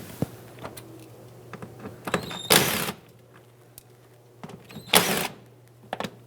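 Cordless driver removing T20 Torx screws from the front bumper cover of a 2013-2020 Nissan Pathfinder, two short loud whirring bursts separated by quiet handling clicks.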